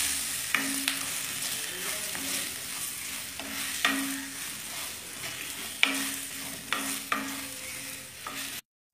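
Eggplant sautéing in hot oil in a pan, a soft continuous sizzle broken by repeated scrapes and clinks of a spatula as it is stirred, close and moderately quiet.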